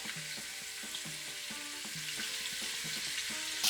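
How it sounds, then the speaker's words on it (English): Food sizzles steadily in a hot pot greased with a little bacon fat, a constant bright hiss with faint stirring clatters underneath, close and even throughout. "Just add it to a hot pot. Mine has a little bit of bacon fat in it."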